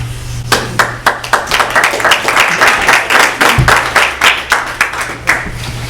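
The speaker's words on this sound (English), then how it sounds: "You guys clapping for me?" Scattered claps from a small audience at a town Board of Health meeting, individual hand strikes clearly separate and fairly close, loose and uneven over a low steady hum.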